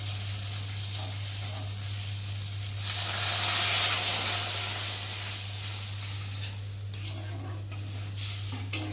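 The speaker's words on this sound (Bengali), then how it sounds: "আর এখন আমি এর মধ্যে জল দিয়ে দেবো" Water poured onto fried spice paste in a pan for a Bengali bhola fish curry bursts into a loud, steamy sizzle that swells suddenly, then slowly fades to a steady simmering hiss over a constant low electrical hum.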